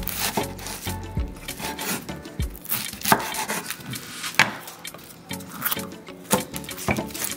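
Onions are chopped on a cutting board, with quick irregular knife knocks and scraping, close and crisp, without talk.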